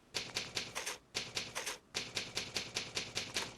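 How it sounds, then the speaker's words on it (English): Typewriter keys struck in Fallout 4, a steady run of about fifteen sharp mechanical clacks in two bursts separated by a brief pause, close and clear with no talking. "Typewriter."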